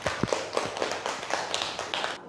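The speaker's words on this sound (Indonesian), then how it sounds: "Tepuk tangan untuk kelompok 3." A short burst of classroom clapping for a student group, with uneven taps and a few sharper claps close by, lasting about two seconds before cutting off abruptly.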